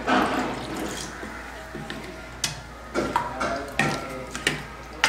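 Kambu koozh, a millet porridge thinned with curd, salt and water, stirred in a pot, giving wet sloshing with a series of sharp clinks of a spoon against the vessel at an uneven rhythm.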